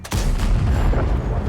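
A tank cannon fires in World of Tanks, a loud, sustained broadband boom with a rumbling low end that sets in sharply after a brief pause and holds for over a second, with no talk.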